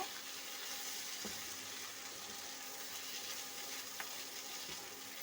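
Pieces of fish for fish chips fry and get stirred in a pan, a steady close sizzling hiss that runs throughout, broken by a couple of faint utensil clicks and no voices.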